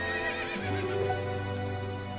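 A horse neighs in the Zelda: Twilight Princess video game, a single loud, drawn-out whinny over steady game music, close and clear with no talking.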